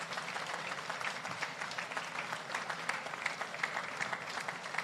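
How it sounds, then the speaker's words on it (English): Sustained clapping from a ceremony audience honoring civil service long-service award recipients, fairly faint and distant, a continuous patter of many hands with no voices on top. "keep the applause going for all the recipients"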